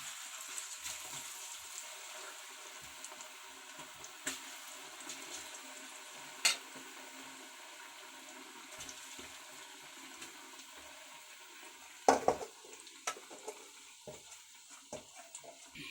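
Cauliflower pakodi fry in oil with a quiet, steady sizzle, broken by occasional clinks and scrapes of a utensil in the pan and a short burst of clatter near the end.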